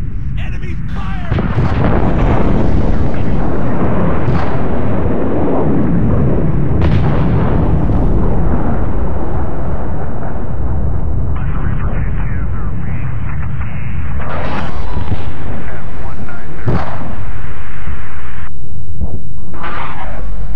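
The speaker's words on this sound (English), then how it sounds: "Enemy fire!" Heavy artillery fire and explosions from a war video game roar loudly and continuously, with booming blasts layered over a dense rumble and occasional sharp bursts.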